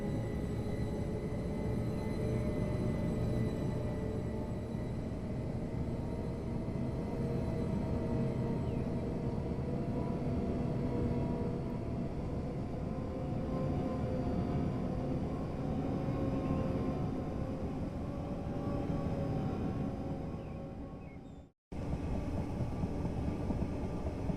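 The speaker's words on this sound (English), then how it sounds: "Sounds pretty alive for a train that's being pushed from the back, doesn't it?" In a train simulator game, a train pushed from the rear hums and rumbles steadily along the line with a constant, even drone, broken once by a sudden brief cutout before resuming.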